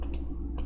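Two sharp mouse clicks in CAD modeling software, crisp and close, spaced about half a second apart over a low steady hum.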